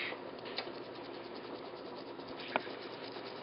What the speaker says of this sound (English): And just scrub this guy out.